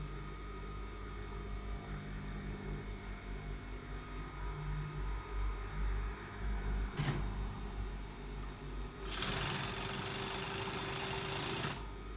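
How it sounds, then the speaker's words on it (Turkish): A sewing machine, its motor cold and just switched on, runs slowly in a steady whirring hum close by, with a short sharp click midway and a louder burst of whirring near the end. "Hava soğuk makinamız da yeni açıldığı için henüz motor ısınmadı arkadaşlar. O yüzden makinamız yavaş dikiyor."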